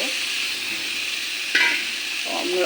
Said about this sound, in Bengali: আলু আর ডিম অমলেট করে পিস পিস করে কেটে নিয়েছি ওটা দিয়ে দেব